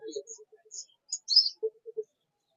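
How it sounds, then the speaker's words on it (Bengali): Caged birds at a Tongi animal and bird market, where doves are kept, give short chirps and soft calls in a few scattered bursts, fairly quiet and close, with no talking. "নিচে অনেক ঘুঘু আছে।"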